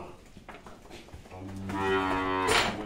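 A cow on a dairy farm lets out one long, loud, close moo that swells and then breaks off, after quieter farmyard sounds.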